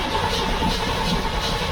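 A 1979 Chevrolet Corvette C3 engine, just cold-started, runs with a steady rough idle inside the car, its continuous rumble filling the short stretch with no talking.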